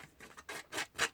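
Scissors snip through paper and lace during card making, a few quiet, quick cutting strokes close by, alone without talk.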